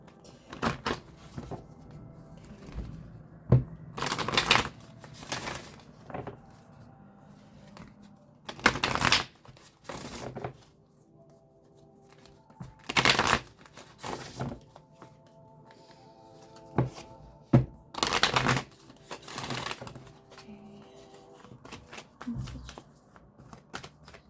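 Cards riffle and shuffle in several loud bursts separated by quieter handling and faint rustling, close up, with no talking.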